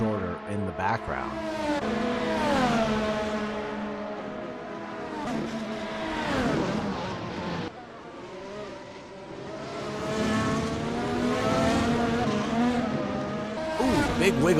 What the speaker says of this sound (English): That's the 8th place car of James Shorter in the background.